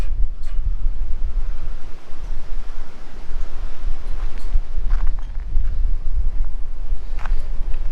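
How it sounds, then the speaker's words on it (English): Strong wind buffets the microphone outdoors in the Mallee scrub, a loud, continuous rumbling roar that stays steady and noisy throughout. "hopefully this wind isn't stuffing things up"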